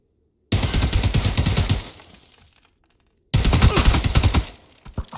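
Rapid automatic gunfire in the battle royale game PUBG, fired by a player at an enemy outside a building, two loud close bursts of dense shots separated by a short pause, with no talk.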